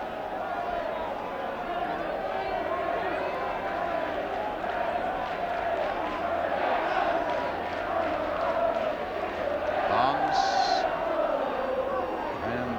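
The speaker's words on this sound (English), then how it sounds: "The Welsh crowd are saying, "We want 5."" Welsh football crowd at the Racecourse chanting during a Wales v England match, a sustained massed roar of voices under steady commentary throughout.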